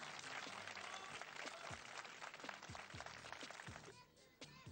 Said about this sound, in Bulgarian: Овации!